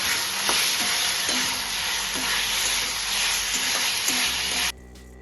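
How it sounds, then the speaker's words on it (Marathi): Paneer chilli fries on a gas stove, a loud continuous sizzle with a few soft stirring knocks, cut off abruptly near the end to a quiet hum. "पाच गॅसवर याला थोडा वेळ आपण फ्राय करून घेऊया"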